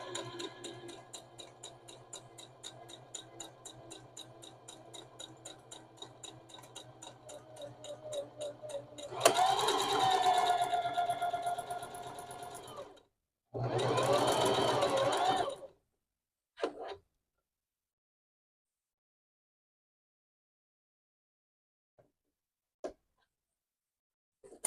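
A Simplicity sewing machine stitches a buttonhole with a steady rapid ticking run of needle strokes, then two louder motor bursts, followed by near silence and a couple of faint clicks.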